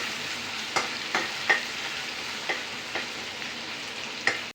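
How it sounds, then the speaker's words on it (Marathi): Ginger and garlic fry in oil in a pan for a buttermilk kadhi, with a steady sizzle broken by several sharp scrapes of a spoon stirring against the pan at irregular intervals. "याला थोडंसं अद्रक आणि लसूण लाल होईपर्यंत आपण थोडंसं हलवून घेऊया"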